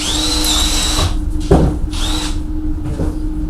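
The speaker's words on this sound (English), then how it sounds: "When you're gonna drill, for starters, you're gonna press that hard because it's not bad." A power drill runs at a steady, whining speed, with one short knock midway and a brief pitch change as it spins up again. It sounds close and loud, with no talking.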